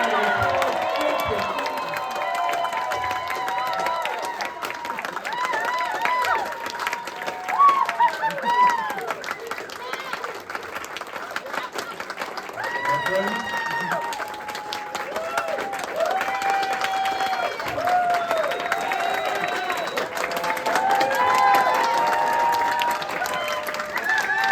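A convention audience at Philly Retro Con in the Philadelphia area claps and cheers loudly and without a break for the whole stretch, with whoops and shouted voices rising over the dense applause.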